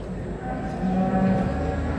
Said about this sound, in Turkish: Evet güzel inekler, güzel düveler var.